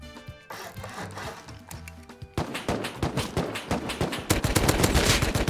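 Gunfire in the video game Rust, rapid bursts of shots and automatic fire that build in density and loudness over a few seconds, with no speech.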